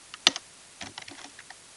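Keys tapped on a computer keyboard while entering a project name in Maya 2016 software, a short irregular burst of close, crisp clicks with one louder stroke near the start, alone.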